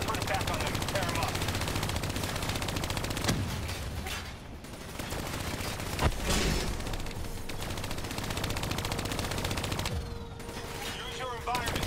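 Hijacked turrets in the video game Call of Duty: Black Ops III fire continuous rapid automatic bursts, loud and dense, with brief lulls and explosive impacts between them.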